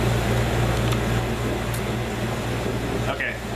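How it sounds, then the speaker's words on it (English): An air conditioner runs indoors with a loud, steady broadband whoosh and low hum that continues unchanged throughout. "I forgot that the air conditioner was on, but hopefully you can hear me fine"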